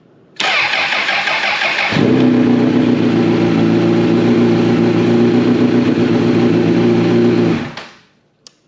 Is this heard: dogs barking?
no